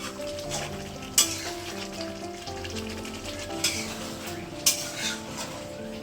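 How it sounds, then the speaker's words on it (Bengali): Chicken cooks in a pan with a steady, busy sizzle, and now and then a metal utensil clinks against the pan. "ওদিকে তো কুরবানি চলছে তার জন্য আমি চিকেনটা রান্না করছি"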